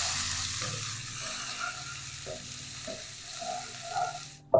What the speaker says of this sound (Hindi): इन सब चीजों को थोड़ी देर के लिए तेल में फ्राई करें।